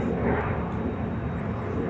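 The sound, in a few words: Bombardier Challenger 300 jet at Dallas Love Field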